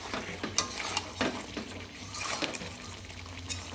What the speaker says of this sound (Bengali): এখন আমি ভালো করে এটা মিক্স করে নেব।